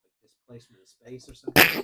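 A loud, sudden sneeze bursts close into a microphone right after a stretch of conversational speech, sharp and broadband for a fraction of a second.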